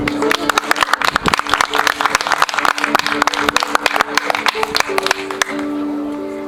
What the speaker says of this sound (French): je crois qu'il mérite quelques applaudissements